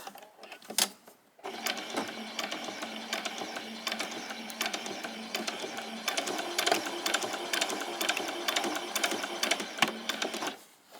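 A sewing machine stitches fabric for summer shorts in a straight line, running in a steady, rapid mechanical clatter close by after a brief pause at the start.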